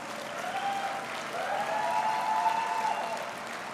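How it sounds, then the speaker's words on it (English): A graduation crowd on a business school campus in Hyderabad applauds in a sustained round of clapping. A thin tonal hum runs faintly beneath the steady applause, and no one speaks. "Can we have a big round of applause?"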